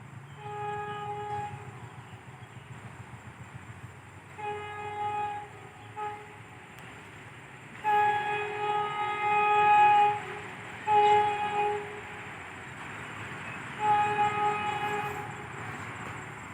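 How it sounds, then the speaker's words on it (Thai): Express train No. 86 approaching a Thai station, pulled by a GEA locomotive, blows its horn in repeated long blasts, loud and near, over the low rumble of rolling wagons. "ที่เห็นอยู่ไกลๆนั่นก็คือรถด่วนขบวนที่ 86 นะครับ"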